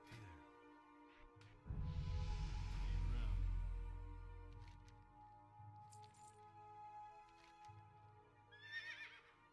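A horse whinnies in the video game Turtle WoW over steady background game music, with a heavy low rumble early on and a sharper, higher neigh near the end.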